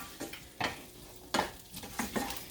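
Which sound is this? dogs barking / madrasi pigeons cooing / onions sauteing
onions sauteing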